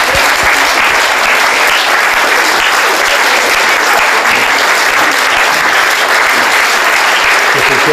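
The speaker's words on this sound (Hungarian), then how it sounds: "egy nagy tapsot kérnénk számukra" Sustained, dense applause from a crowd at an outdoor March 15 commemoration in Hungary, honouring the workers, loud and even throughout with no break and no voices rising above it.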